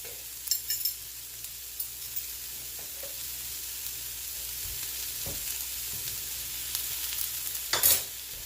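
Chopped onion and garlic sizzle in a pan on the stove, a steady soft frying hiss with occasional stirring clatters and a clink near the end, with no talk.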